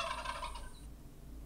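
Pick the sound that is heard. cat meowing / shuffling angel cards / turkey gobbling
turkey gobbling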